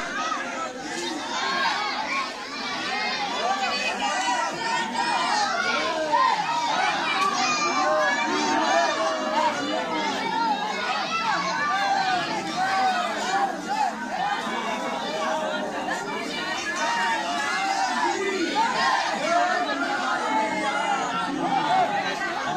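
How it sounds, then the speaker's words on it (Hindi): A dense village crowd chants and shouts together while circling a Holi bonfire, a loud, continuous wash of many voices, including children, throughout. "परिक्रमा लग रही है होली मैया की, आप देख सकते हो जयकारे के साथ"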